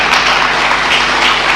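An audience at a university anniversary public dialogue applauds, a steady, loud and even patter of many hands clapping throughout the short stretch.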